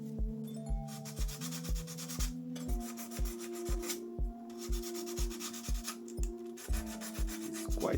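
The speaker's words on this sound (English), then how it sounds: "I'm going to give a little bit of sanding on the surface that I'm going to glue the fenders" Rhythmic back-and-forth sanding strokes rasp against a scale RC crawler body where fenders will be glued, about two per second, close, over a steady tonal hum with no talking.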